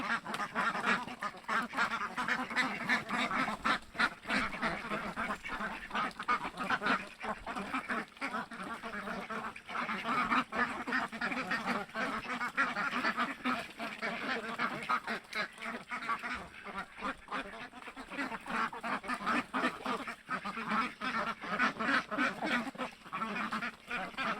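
A large flock of Khaki Campbell and Pekin ducks quacks nonstop, overlapping honking calls filling the air at moderate volume throughout.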